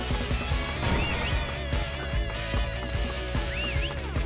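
Horse hooves galloping steadily in the Dynasty Warriors 8 battlefield, a rhythmic clip-clop beat running throughout beneath a constant bed of game music and battle noise, with a brief whinny-like call now and then.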